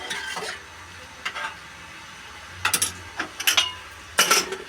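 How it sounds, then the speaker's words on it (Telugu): Dal tempering in a pan gives brief bursts of sizzling and clattering stirring, separated by quiet gaps and growing louder toward the end. "పప్పు అయితే తాలింపు వేసుకుందాం"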